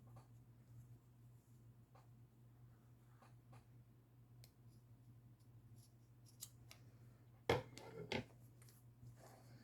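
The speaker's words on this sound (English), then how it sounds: "Actually, you know what? Yeah, I'm going to cut it." Scissors cutting leather for a moccasin cuff: soft, close snips and clicks over a quiet room hum, ending in a few louder, crisp cuts.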